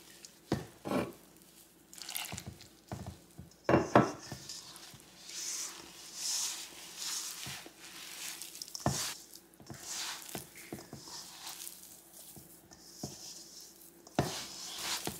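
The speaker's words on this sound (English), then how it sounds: "Knead this to a soft dough like the chapati flour." Soft dough of rice flour is kneaded by hand, giving close, irregular squishing and slapping pats with brief sticky crunches and short pauses between pushes.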